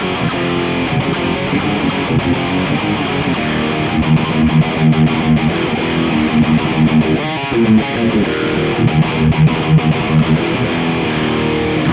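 An electric guitar runs through the full-on Petrucci distortion preset of a Valeton GP-50, giving a dense, saturated tone with sustained chords and busy riffing, loud and steady throughout with no voices.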